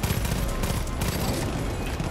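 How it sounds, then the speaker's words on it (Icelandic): Rapid gunfire from the shooter game Far Cry 5 rattles in a dense, loud, continuous burst, with helicopter rumble underneath. "ég er að skjóta"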